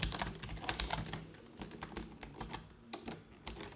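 A password is typed on a computer keyboard during a Linux server setup, quick, close, irregular clicks and clacks of keys, some louder taps standing out, with no talking.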